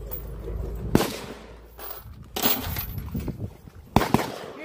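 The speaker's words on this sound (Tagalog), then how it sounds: "Putok natin ang full auto. Try natin yung full auto." T4 5.56 rifle test-fired on full auto outdoors, sharp loud bursts at about one, two and a half and four seconds, with steady background noise between them and no talk.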